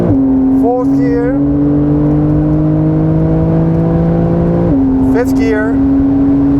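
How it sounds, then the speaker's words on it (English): A 2020 Porsche 911 (992 generation) Carrera S engine pulls at full throttle through the gears, a loud, steady droning tone that drops abruptly at an upshift, with a voice talking over it. "So we are in 4th gear, 3rd gear, full throttle"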